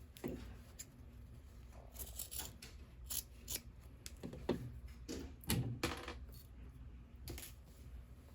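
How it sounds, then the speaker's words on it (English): Scissors trimming fabric along a freshly sewn seam of a quilted mug rug, a series of quiet, close snips and clicks at an uneven pace. "trim off along the seam here where we just sewed"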